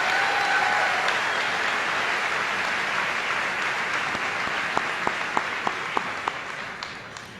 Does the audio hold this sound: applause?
yes